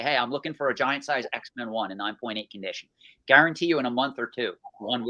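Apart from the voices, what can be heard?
None of the usual background noises is heard.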